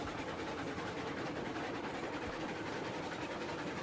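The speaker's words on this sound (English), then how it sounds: "This is a huge train." A long freight train in the game Railroads Online rumbles on with a steady, faint, broadband roar and low mechanical drone, unbroken and without voices.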